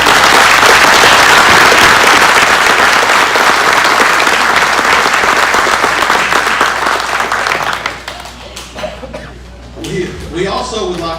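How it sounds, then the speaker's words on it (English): An audience at a scouting award dinner claps loudly and steadily for several seconds. The applause then tapers off into scattered claps, a cough and light chuckles. "So please join me in a warm round of applause for our senior."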